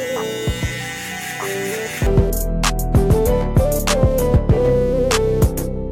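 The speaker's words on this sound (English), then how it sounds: "I like to use the corner of my shaver, just like I would use a clipper." A loud electric shaver buzzes steadily up close, its pitch dipping and rising in repeated strokes as its corner moves across hair during a mid bald fade haircut at a barber.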